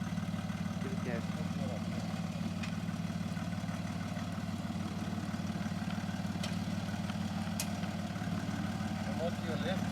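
A 4x4 off-road vehicle's engine idles steadily at a Bridgestone 4x4 Club Challenge qualifying event, a continuous low rumble with voices talking over it.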